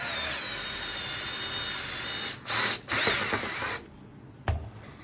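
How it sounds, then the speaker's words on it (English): A power drill bores a straight hole to fit a threaded insert in an earlier model Stinger II, whining at high speed in a steady run, then two short bursts, up close. "Now it is important that you drill a straight hole"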